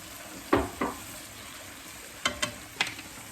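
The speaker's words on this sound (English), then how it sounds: "Now we're going to add our mushrooms and asparagus." Mushrooms and asparagus go into a hot frying pan, a faint steady sizzle broken by a few soft clunks and scrapes as the vegetables land and shift, quiet and close.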